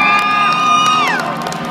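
A crowd at an Indy motorcycle stunt show cheers and whoops loudly in a short burst, shrill voices rising together and tailing off.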